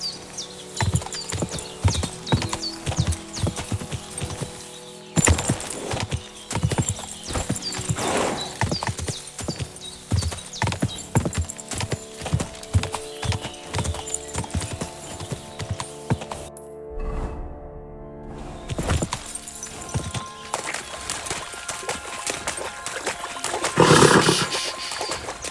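In Kingdom Come: Deliverance II, a horse gallops in the Trosky horse race with rapid rhythmic hoofbeats and an occasional whinny, a brief dropout midway and a loud swell near the end.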